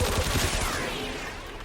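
Rapid automatic gunfire in a video game, a weapon fired continuously at a heavy enemy, loud, dense shots that tail off slightly toward the end.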